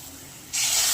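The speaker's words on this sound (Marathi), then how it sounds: "आता आपण जे कटाचं पाणी निघलेलं आहे ते टाकणार." Lentil stock from cooked matki is poured into fried masala in a pan for katachi amti. A sudden close, loud hissing splash starts about halfway through and stays steady to the end.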